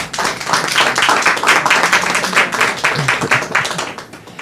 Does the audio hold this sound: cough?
no